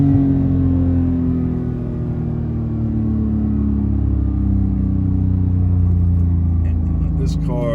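A 2018 Porsche 991.2 GT3 with a manual gearbox rev-matching on a downshift while driving on the street, its engine note swelling into a loud, droning rev that falls steadily as the revs come down, heard from inside the car.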